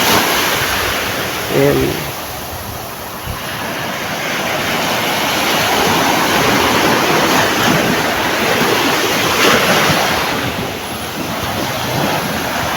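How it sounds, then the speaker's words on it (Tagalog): Large ocean waves surge and roar continuously around a small fishing boat at sea, mixed with steady wind noise, while a voice briefly speaks near the start. "Medyo malaki po ang alon eh."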